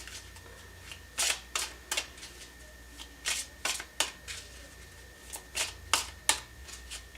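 Tarot cards are shuffled and drawn in a quiet room, producing a series of crisp riffling bursts and soft flicks spaced irregularly over several seconds.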